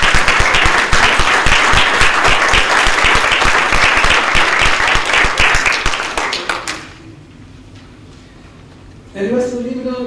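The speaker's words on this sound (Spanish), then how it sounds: "Me gustaría que aplaudan fuertemente a Sergio y a Sonia" A conference audience applauds loudly and steadily for several seconds. The clapping fades out, there is a brief quiet, and then a voice begins speaking.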